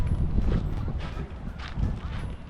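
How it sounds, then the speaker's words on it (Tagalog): Horses' hooves clip-clop on the ground in a loose, uneven rhythm, close and fairly loud, with faint voices in the background. "These are the horses here?"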